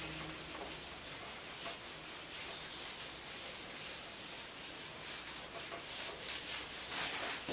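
Writing being rubbed off a board in a classroom lesson: a continuous close, soft scratchy rubbing with repeated back-and-forth strokes, no voices over it.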